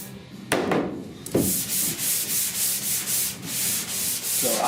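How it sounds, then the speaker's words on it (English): Sanding block rubbed over primer on the roof of a 1969 C10 truck: a couple of sharp knocks, then a brisk run of rhythmic back-and-forth scraping strokes, close and alone. "when I get through sanding here"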